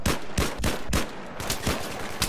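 Pistol fire in Battlefield 3 during a pistols-only match: a steady string of loud, close shots at a quick, fairly even pace, one after another with no pauses.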